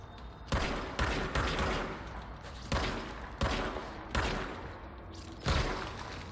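Gunfire in the video game Control, heard as a string of sharp, loud shots at an uneven pace that hit roughly every second over a steady background din.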